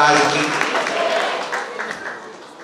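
Applause from the audience at a Jain religious gathering honoring Acharya Vidyasagar, a dense wash of clapping that starts loud and slowly fades, with voices mixed in.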